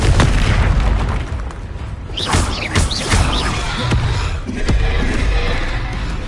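Confringo blasting spells in Hogwarts Legacy burst as repeated loud booms over a dense, continuous barrage of combat noise, with whooshing spell sweeps between the impacts.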